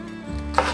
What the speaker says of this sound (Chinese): 准备2颗芹菜，把根部切掉